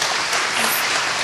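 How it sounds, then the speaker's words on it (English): Audience applause at a sustainable growth summit, a steady, dense wash of clapping from a crowd filling the whole short moment without a break. "Let's give them a round of applause for that inspiration."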